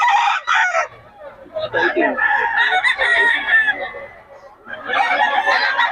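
Gamecock stags crow repeatedly at a busy gamefowl market in Bocaue, loud and close, with overlapping calls and clucks from nearby birds and people talking in the background.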